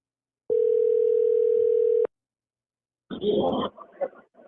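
A telephone gives a steady electronic dial tone for about a second and a half, then cuts off, followed by a brief burst of rustling handling noise on the line.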